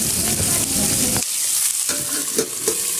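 Chicken curry being stirred and fried in a pan gives a steady crackling sizzle with scraping strokes of the spoon, fairly close and loud, with no talking.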